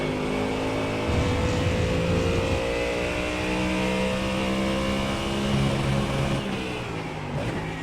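A GT3 race car in a racing game at Road America roars loudly, its engine pitch dropping in stepped falls as it downshifts, then climbing and swelling again, continuous and close.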